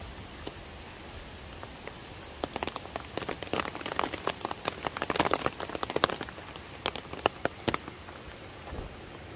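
Rain patters steadily along a mountain valley trail toward a waterfall, with scattered louder drops tapping close by over a soft constant hiss.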